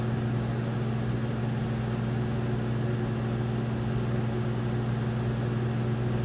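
A commercial microwave oven drawing about 975 watts, powered through a Victron 12/1200 inverter, hums steadily with a constant low drone and buzzing tones, running without change and fairly close.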